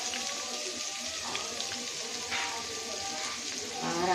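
Chopped onion sizzles steadily in hot oil as the base for a pabda fish curry with potato and tomato, a dense, even hiss throughout with a slight swell near the end.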